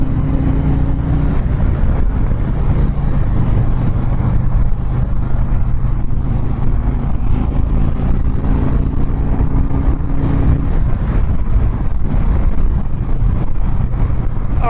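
A 2019 Harley-Davidson Road Glide cruising at highway speed, with a steady low engine drone and heavy, continuous wind rush buffeting the microphone throughout, with no talk.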